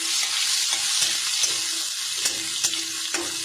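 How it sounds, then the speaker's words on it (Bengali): Garlic fries lightly in a pan with a soft, even sizzle, broken now and then by a few light stirring scrapes. "রসুনটা একটু হালকা ভেজে নেব"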